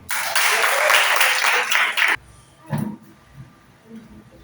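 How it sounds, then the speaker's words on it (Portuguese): A church congregation claps during a family worship service, a dense burst of applause for about two seconds that stops abruptly, followed by quieter room sounds and brief voices. "Dê um aplauso ao Senhor."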